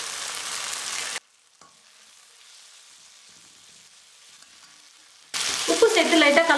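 Tomatoes sauté in a pan for rava upma, a loud close sizzle and stirring that cuts off into near silence, then returns with crackling and clinks.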